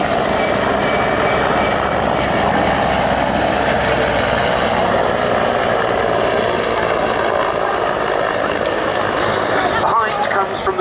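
Czech Air Force Mi-35 and Mi-171 helicopters crossing at an air show display line, a loud sustained roar of rotors and turbines filling the air, with a commentator's voice running over it throughout.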